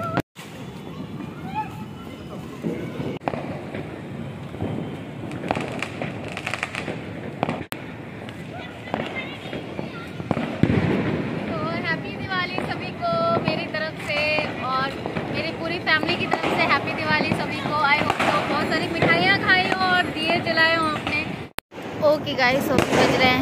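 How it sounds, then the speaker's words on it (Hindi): Firecrackers and fireworks going off outdoors during Diwali celebrations, with scattered pops and crackles running continuously under a busy babble of voices and chatter. "मिलजुल के पटाखे वगैरह बच्चे सारे जला रहे हैं"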